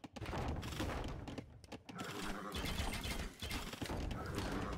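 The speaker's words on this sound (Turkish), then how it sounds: "Mangonel'le TC dibine vuruyor daha çok." A mangonel in a medieval strategy game pounds a town center with repeated crashing impacts and rattling mechanisms amid battle noise and a commentator's voice.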